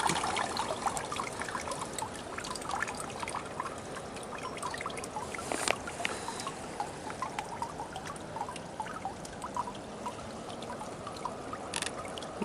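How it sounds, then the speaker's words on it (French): Water runs and trickles steadily through a gold panning sluice outdoors, a continuous close splashing wash with small irregular splats and no talking. "Donc, je vais arrêter l'eau."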